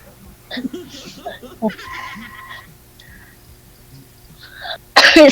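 Several short bursts of coughing or throat noises mixed with voices, followed by a sudden loud rustling burst at the end.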